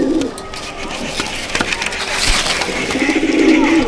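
Pigeons coo and stir inside a pigeon loft where pairs are nesting on eggs, with soft repeated coos, rustling and a few light wooden knocks close by.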